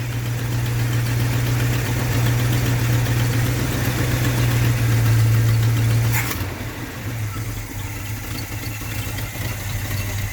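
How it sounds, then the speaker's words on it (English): A faulty truck engine idles a little high with a low, even hum, then the idle drops slightly lower and settles after a brief click. "As it's idling just a little high for what I want."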